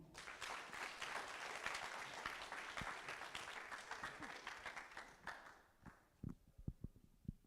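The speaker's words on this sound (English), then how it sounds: "One more time, ladies and gentlemen, a round of applause for" Audience clapping at a compliance management workshop, a dense burst of applause that thins into a few scattered, separate claps before fading, moderately close and quiet overall.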